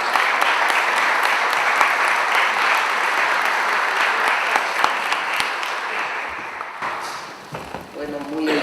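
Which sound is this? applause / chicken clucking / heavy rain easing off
applause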